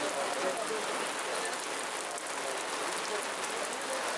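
Heavy downpour drenching an outdoor protest, a dense, steady hiss of rain hammering surfaces close by, constant and loud throughout with no pause.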